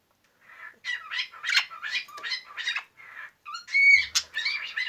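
An angry male budgerigar squawks and chatters in a rapid series of harsh, scratchy calls, close and fairly loud, with a brief flutter near the end.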